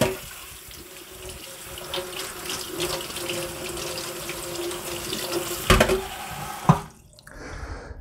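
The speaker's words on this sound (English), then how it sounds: "Now what I need to do is give these berries a good rinse." Cold water runs steadily from a kitchen tap over strawberries, a continuous splashing stream with a few louder clunks and drips near the end before it cuts off.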